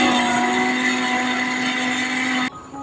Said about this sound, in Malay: Lalu kita kisar lebih kurang 3 ke 4 minit.